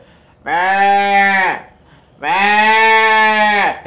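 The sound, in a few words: child imitating a sheep bleating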